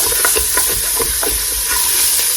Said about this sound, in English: we're just putting them in here to saute up a little bit